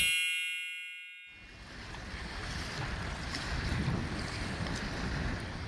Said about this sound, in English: the waves aren't calming down